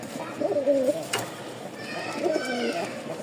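A female Top Collette pigeon in full breeding heat coos in two soft, throaty bursts separated by a short pause, close by and fairly quiet, with a brief sharp click between them.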